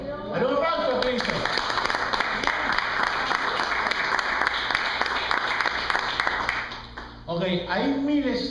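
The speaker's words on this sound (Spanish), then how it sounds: "Dale un aplauso a Cristo" A church congregation breaks into loud, sustained applause that fills the room, with cheers and voices mixed in before it fades near the end.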